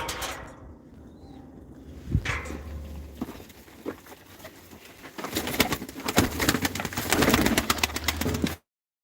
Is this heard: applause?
no